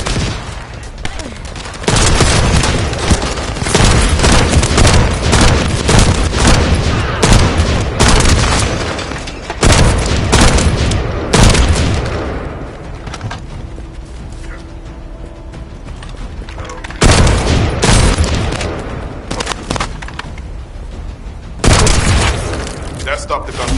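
Gunfire and heavy explosions in the shooter video game The First Descendant, with loud booming blasts and rapid bursts of fire that come in dense waves, then a quieter lull before more blasts.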